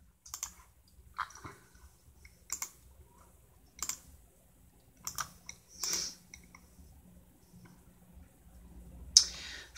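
An email address is typed on a computer keyboard in short bursts of close, crisp key clicks separated by brief pauses, with one sharper click near the end and no talking.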